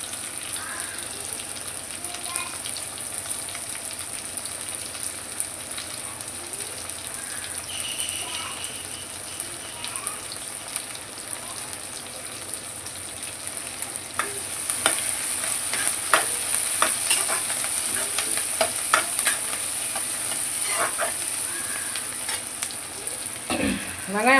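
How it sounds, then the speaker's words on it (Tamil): Small shallots sautéing in oil for a village-style fish curry, a close, steady sizzle with frequent scraping and clinking as a spoon stirs the pan, the stirring growing busier and louder in the second half. "நல்லா வதக்கி விட்டுக்குங்க, சின்ன வெங்காயம் நல்லா வேகட்டும்."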